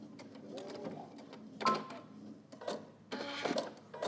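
A sewing machine stitches a robe seam in short runs of fast mechanical whirring and clatter, close by, broken by brief pauses and handling noises.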